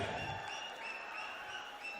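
An audience at a company annual day celebration in 2015 applauds as the HR director comes on stage, a soft, steady wash of clapping that holds evenly with sustained tones above it.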